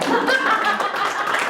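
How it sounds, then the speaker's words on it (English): An audience at a live talk breaks into a round of applause, a dense, steady burst of many hands clapping close by with a few faint chuckles mixed in. "Give me a round of applause."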